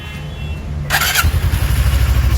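A powerbike motorcycle engine cranks with a sharp starter whine, then catches and settles into a loud, throbbing, pulsing idle close by.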